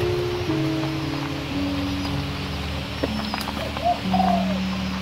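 Caged breeding doves coo in low, soft, drawn-out calls, several of them overlapping against a steady background hiss. They sound moderately close.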